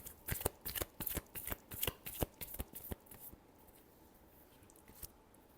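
Tarot cards being shuffled by hand give a quick run of crisp riffling bursts in a fast irregular rhythm, close and fairly quiet, thinning to a few softer rustles at the end.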